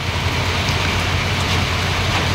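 Steady rain falls outdoors in Palawan, a continuous dense hiss with low rumble underneath, even and unbroken throughout with no voices.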